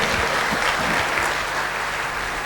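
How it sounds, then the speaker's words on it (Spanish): An audience applauds a speaker after a technical talk at a petroleum engineering conference. The clapping is dense, steady and sustained from start to end, with no voices over it. "un aplauso por favor para el ingeniero Nabil Chávez"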